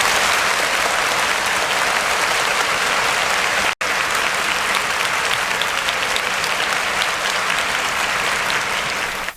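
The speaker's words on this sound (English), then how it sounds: "we have to give you a quick round of applause." A live audience gives a quick round of applause for a departing coach, dense steady clapping at full volume for about nine seconds, with a brief dropout partway through and no speech.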